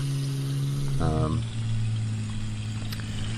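A low, steady truck engine drone in Farming Simulator 2013 hums throughout, with a brief louder tonal rumble near the start before settling back to a constant idle.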